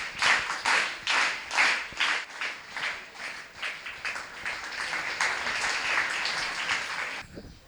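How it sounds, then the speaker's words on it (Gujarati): Audience applause at a motivational presentation honoring Rishabh Shah: a sustained, dense round of clapping from a crowd, loud and steady for several seconds before stopping abruptly. "આપણે બધા એને તાળીથી સન્માનિત કરશું."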